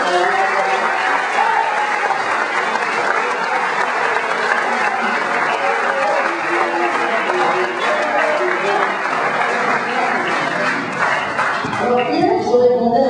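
A crowd at a political rally applauds loudly in a dense, continuous wash of clapping that lasts about 12 seconds before easing off, with voices rising near the end.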